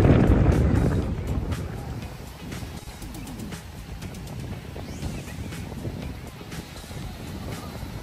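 Wind blowing across Camborsan Beach at low tide, a steady broadband rush with strong low buffeting gusts hitting the microphone, loudest in the first second, then settling into a constant windy roar.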